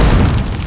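A mine explodes in Call of Duty: Modern Warfare 3, a loud, deep boom that fills the short moment with sustained low rumble.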